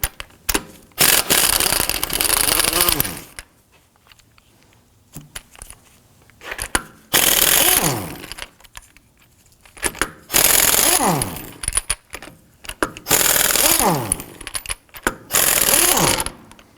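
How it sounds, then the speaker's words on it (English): Power tool with a 19mm thin wall socket loosening and removing lug nuts from the front wheel of a 2005-2009 Subaru Legacy, loud rattling bursts of two to three seconds repeated several times with quiet pauses between. "Using a 19mm thin wall socket, I'm going to go ahead, loosen and remove our lug nuts and our locking key."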